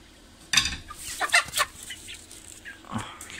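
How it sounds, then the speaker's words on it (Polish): A hen feeding alongside quail clucks in a few short, sharp bursts, close by, with scratchy rustling between calls. "Kura sobie je."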